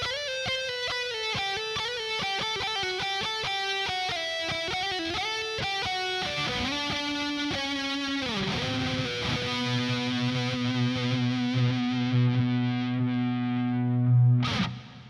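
Jim Root signature Jazzmaster electric guitar on its EMG 60 neck pickup, played through heavy distortion and effects: a fast run of picked notes gives way to sustained ringing chords that swell loudly near the end, with no talking.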